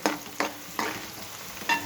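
Spices with fenugreek powder frying in a pan for a spicy Guntur-style fish curry, a close sizzle punctuated by four quick rhythmic stirring scrapes, with no voices.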